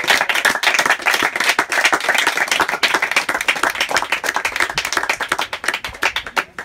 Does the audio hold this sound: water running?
no